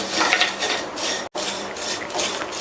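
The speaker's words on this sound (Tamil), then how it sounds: "மிதமான தீயில வச்சு இந்த சேமியாவை ஒரு 2 நிமிஷத்துக்கு வறுத்துக்கலாம்." Vermicelli roasting in ghee in a pan over medium heat, a continuous dense sizzling rustle with steady stirring scrapes, close and fairly loud, broken by one brief cut.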